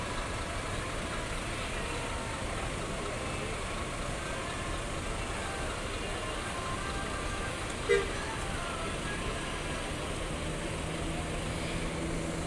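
A steady, low engine rumble of a departing Jetbus 5 coach on a Sino RM chassis with a Euro 4 engine, fairly even throughout with one brief click partway through, no talking.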